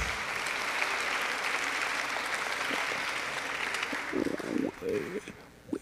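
Audience applause at a high school choir spring concert, steady and fairly full for several seconds before thinning out, with a few voices and scattered sounds toward the end.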